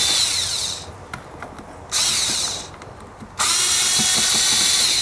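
A power driver whirs in three loud bursts with quiet pauses between them while backing out Phillips screws from a 2008 Jeep Grand Cherokee rear bumper cover.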